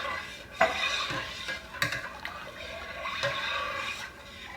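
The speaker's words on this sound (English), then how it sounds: "Continue to stir that." A utensil stirs milk with dissolved calcium chloride in a pot while making mozzarella, giving soft, intermittent scraping and clinking sounds with light liquid swishes, fairly quiet and close.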